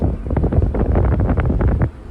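Cold wind gusts across hillside tea plantations at Vagamon, buffeting the microphone with a loud, rough, low rumble for about two seconds, with no talking.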